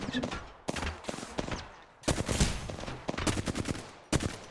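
Rapid bursts of automatic gunfire from an Apex Legends firefight, sharp and loud in clustered volleys separated by brief pauses, with a faint voice in the background.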